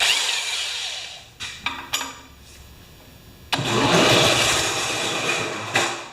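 A small Honda two-stroke compressor engine on a wheelbarrow sputters and tries to catch with a few short bursts, then roars into a loud, sustained run before briefly cutting back.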